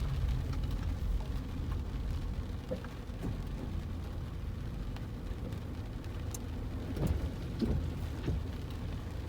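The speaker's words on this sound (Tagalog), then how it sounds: "Lakas ng ulan, simula pa kagabi." Heavy, steady rain that has fallen since the previous night pours down outside a house, a dense continuous hiss with a few louder spatters and faint low rumbles, with no voices.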